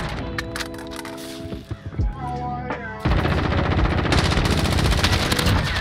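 A mini AK47 fires in a Search and Destroy match of an online shooter. Scattered game effects give way to a loud, sustained burst of rapid automatic fire over the last half.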